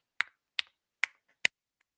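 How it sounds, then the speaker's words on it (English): Four sharp tongue-and-mouth clicks of the kind used for human echolocation, evenly spaced about half a second apart, crisp and close with nothing else around them. "to create clicking sounds"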